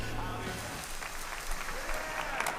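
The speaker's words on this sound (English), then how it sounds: "Who's cheering? Oh, just the people." A crowd of people cheering and clapping, a steady wash of applause with scattered shouts, moderately distant.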